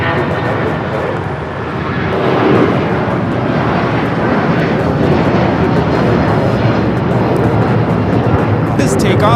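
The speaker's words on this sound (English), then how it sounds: "This takeoff is United Airlines 1069 taking off to Chicago on the 757-300." United Airlines Boeing 757-300 taking off from LAX toward Chicago, a steady loud roar of jet engines that holds over the whole stretch, with a voice talking over it.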